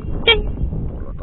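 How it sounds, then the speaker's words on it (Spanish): A quad bike's horn gives one short, fairly loud toot that stops almost at once, set against a low rumbling background. "lo toca y tiene un claxon que está por ahí dentro escondido"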